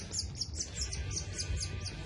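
A small young bird in care chirps repeatedly, a steady run of bright high tweets close by over a low background rumble.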